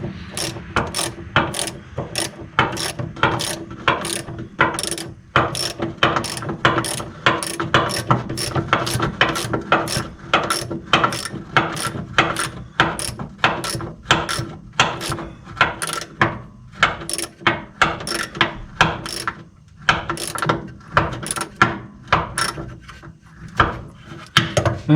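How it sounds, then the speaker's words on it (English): A 3/8-inch drive ratchet with a 6-inch extension and 1/2-inch socket tightens a bolt on a 1966 Ford Mustang. It makes a long series of close, crisp clicking strokes in a steady rhythm with short pauses between. "Just using a 6-inch extension, 3/8 drive ratchet, and a 1/2-inch socket."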